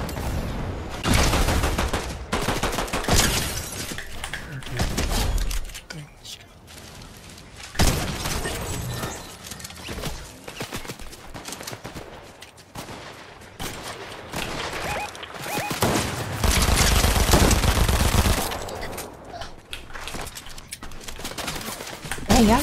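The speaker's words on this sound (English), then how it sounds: "We got shots on both sides," Bursts of gunfire from both sides in a Fortnite match come in loud rapid volleys and single cracks, broken by short lulls, with a heavy barrage near the end.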